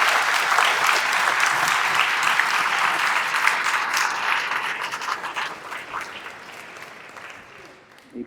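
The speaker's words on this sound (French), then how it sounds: "On vous applaudit parce qu'on vous accueille dans une communauté chrétienne" A crowd applauds steadily at a Mass of the Assumption with confirmation, loud and sustained, then gradually fades toward the end.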